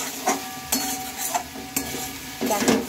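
Vegetables being stirred and mixed in a pan with a spoon, several scraping strokes against the pan over a soft continuous sizzle, close and fairly loud with no talking.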